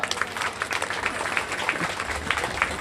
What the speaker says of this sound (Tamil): அவ்வளோ அருமையாக எல்லாரும் ஒரு பலத்த கரகோஷம்